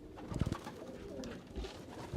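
Pigeons cooing in soft, repeated low throaty calls, fairly close, with a steady murmur of background noise and no talk.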